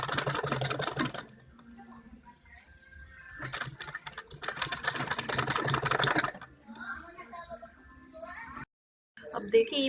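A sewing machine stitches kurti fabric in two fast whirring bursts of rapid needle clatter, separated by quieter pauses with light handling noise, ending in a short gap and scattered clicks.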